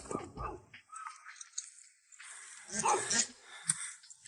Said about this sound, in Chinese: 这种山里面的狗非常非常的凶悍